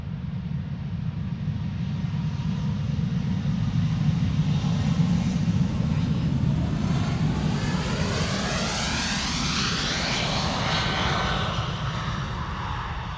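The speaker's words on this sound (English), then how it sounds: "Just listen how remarkably quiet this airplane is, silent." A quiet jet airliner's engines roar steadily and smoothly as it accelerates on takeoff at Amsterdam Schiphol, a broad sweeping whoosh rising and shifting in pitch, fairly close, no talking.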